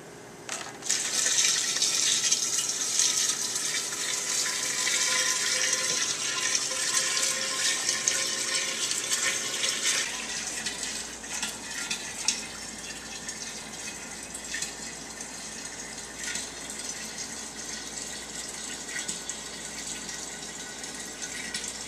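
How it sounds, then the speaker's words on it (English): Strained homebrewed mead poured into a carboy, a steady close gush of liquid that runs strongly for about ten seconds, then continues as a thinner, lighter trickling flow to the end, with no talk. "We've strained the mead and we just got a little bit off of it. And now we're going to pour it in."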